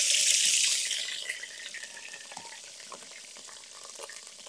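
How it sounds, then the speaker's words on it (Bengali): Whole spices dropped into hot oil in a wok, a loud burst of hissing sizzle at first that quickly settles into a softer, steady crackle with faint stirring. "এবার কড়াতে তেল দিয়ে দিয়েছি তেলে মশলাপাতি গুলা দিয়ে দিলাম"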